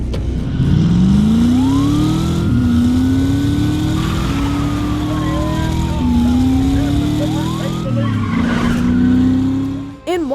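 A car chase from the opening sequence of the 2011 film Drive has a loud engine climbing through several gear shifts. Tyres squeal and skid over it, and a sharp burst comes near the end.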